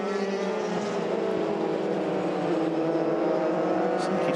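Euroformula Open race cars howl through the left-hander toward Pouhon at Spa in Belgium, a loud sustained engine whine with shifting pitch, continuous throughout, under a commentator's voice.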